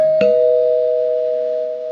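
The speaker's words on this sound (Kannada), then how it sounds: "Door bell ring." A doorbell chimes once with a sharp strike, then a sustained clear tone rings on and slowly fades, loud and close with no voices.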